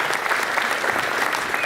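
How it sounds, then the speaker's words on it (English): Audience applause at an All Saints performance in Portland, honoring Sue and the volunteers: a dense, steady wash of many hands clapping together, fairly close and sustained throughout without pause. "Why don't we give them a round of applause?"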